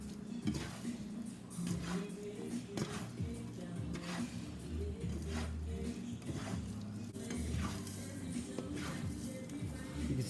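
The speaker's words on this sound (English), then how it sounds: "You can see the egg starting to cook when I flip it." Egg and rice fry together in a pan as the egg is flipped, with a steady sizzle under soft, repeated scraping and stirring, close and fairly quiet.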